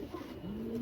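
A pigeon on a rooftop gives a brief, soft, low coo, faint against quiet background noise.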